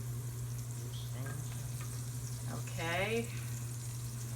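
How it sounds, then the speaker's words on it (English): Garlic frying in oil at the bottom of a sauce pot for an Italian Sunday gravy, a steady close sizzle running throughout with a brief spoken word and some kitchen clatter over it. "wait for the garlic to brown a little bit"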